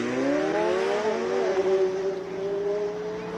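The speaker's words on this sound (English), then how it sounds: "John Mountain just launched his McLaren 720." A McLaren 720 launches off the start line at a Cape Town hill climb, its engine note climbing sharply through the revs, holding a loud, close, rising roar before easing slightly as it pulls away.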